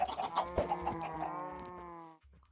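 A newly hatched Minecraft chick clucks and chirps in quick, tonal bursts, bright and synthetic-sounding, fading into quiet at the end.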